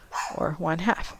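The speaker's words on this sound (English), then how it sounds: "If you hear my dog barking in the background" A dog barks in the background, brief and somewhat distant, under a voice as he speaks.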